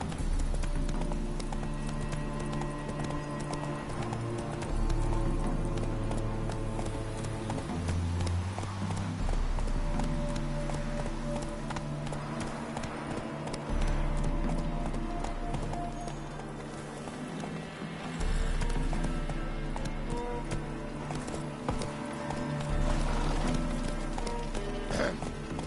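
Horse galloping in the video game The Witcher: Hearts of Stone, a steady rhythmic clip-clop of hooves running continuously under game music, with a brief voice and faint neighing.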